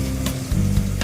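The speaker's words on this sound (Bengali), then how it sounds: "উল্টে দিয়েছি আমি একবার, একটু লাল করে ভেজে নেব।" Bhola fish fries in oil, a brief close sizzle with a couple of soft stirring bumps.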